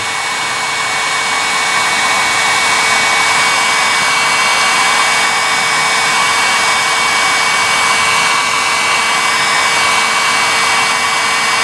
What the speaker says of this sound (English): And the little heat guns, they ain't 20, 30 bucks.